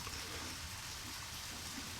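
Steady rain falls in the Deadly Premonition video game, a constant even hiss of drops on surfaces with no voices over it.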